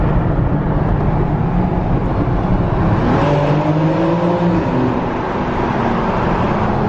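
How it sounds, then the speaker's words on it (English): A BMW X3 M Competition downshifts inside a tunnel, its engine and exhaust loud and close with a steady roar, rising and falling revs, and booming echo from the tunnel walls. "Give us some downshifts."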